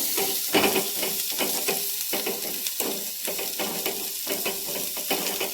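Tiny kolim shrimp frying with turmeric in a pan give a constant bright sizzle, with rhythmic scraping pulses from stirring repeating every half second or so, close and fairly loud.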